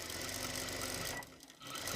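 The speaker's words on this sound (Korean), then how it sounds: "이렇게 해서 박음질 해주겠습니다." A sewing machine stitches the seam of linen or cotton trousers, running as a steady close mechanical whir with a rapid rhythmic needle tick, then briefly dipping before resuming.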